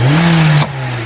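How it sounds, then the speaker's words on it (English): Acura RSX with a 50-trim turbo kit and a failed turbo shaft, the engine held at a loud revving drone that rises slightly, then abruptly cuts back to a steadier idle-like hum partway through. "When I revved it, the turbo was literally smacking into the fucking housing"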